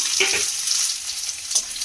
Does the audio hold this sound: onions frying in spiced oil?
yes